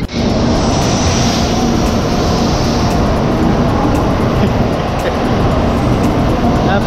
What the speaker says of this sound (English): first trip on the Shinkansen, the Japanese bullet train.